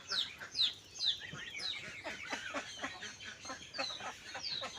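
Farmyard chickens cluck and squawk in a close, busy morning chorus, with short repeated calls overlapping irregularly and no pause through the stretch.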